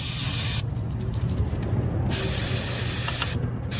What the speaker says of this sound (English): gonna spray this thing down